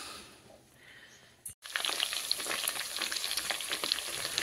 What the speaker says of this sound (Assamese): তো মাছ ফ্ৰাই কৰি আছো এতিয়া